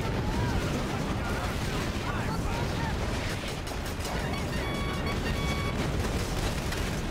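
Rocket veteran units fire during a Battalion Wars battle, a dense, continuous roar of blasts and gunfire that stays loud throughout with no pause.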